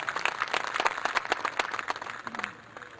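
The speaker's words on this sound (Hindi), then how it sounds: "जोरदार तालियां इनके लिए" Audience at a public speech event in Gorakhpur claps, with distinct individual hand claps forming an uneven round of applause that fades out near the end.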